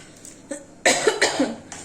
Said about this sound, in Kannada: ಒಣಮೆಣ್ಸಿನ್ಕಾಯಿ ಒಗ್ಗರಣೆ ಹಾಕಿದ್ನಲ್ಲ, ಸ್ವಲ್ಪ ಘಾಟಾಗಿ ಕೆಮ್ಮು ಬಂತು ಅಷ್ಟೇ